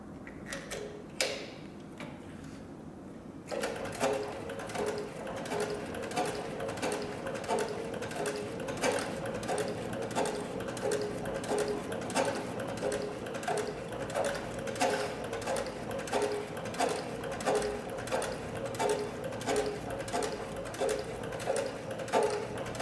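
A Hightex Cowboy CB 3200 heavy-duty sewing machine stitches through four layers of thick tooling leather, a steady close rhythmic thumping of the needle after a few sharp starting clicks, continuing evenly for a long stretch.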